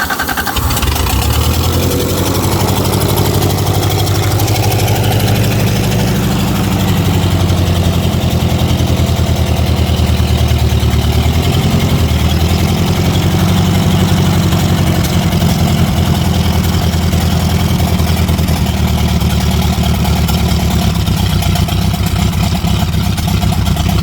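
A 1953 Ferguson TO-30 tractor engine idles roughly after sitting for years, a loud, steady low rumble with an uneven, lumpy beat that runs throughout, no talk over it.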